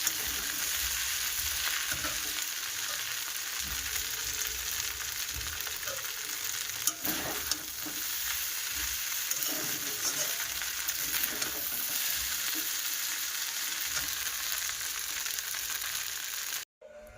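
Chow mein fries in a hot kadai wok with a loud, continuous sizzle. Occasional stirring scrapes and knocks sound close by throughout, and the sizzle stops abruptly near the end.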